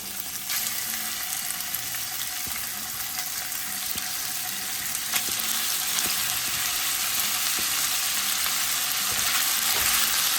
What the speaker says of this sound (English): That sizzle is really loud